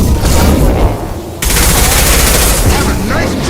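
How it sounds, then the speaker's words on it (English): Gunfire from Mass Effect 2 comes as a loud, dense burst of rapid shots and booms that cuts off abruptly and then resumes, with voices mixed into the chaotic firefight. "He's gunning down his own crew to keep control?"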